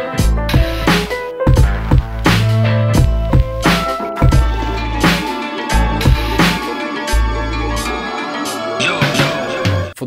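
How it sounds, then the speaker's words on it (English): Beat pattern built on a Maschine MK3 around a flamenco guitar sample: plucked guitar phrases ride over thumping kicks, snappy hits and low bass, loud and looping for the whole stretch without talking. "I used this flamenco guitar."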